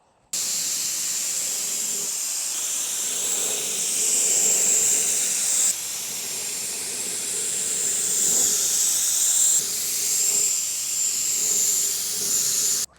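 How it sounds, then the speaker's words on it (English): A spray gun lays finish onto a handmade guitar body with a steady, loud airy hiss that runs unbroken for several seconds, swelling and easing slightly as passes are made. "It has been a while since I've sprayed."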